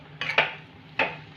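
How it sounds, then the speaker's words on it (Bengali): A spoon clinks and scrapes against a pan or bowl while soybean chop filling is mixed with chaat masala and chopped coriander, giving three short, close metallic knocks in an otherwise quiet kitchen. "ভালো করে আবারও আমি পুরের সাথে মিশিয়ে নেব"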